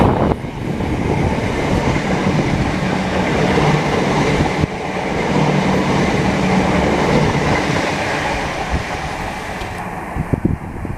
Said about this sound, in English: once again a 387, the service bound for London Paddington.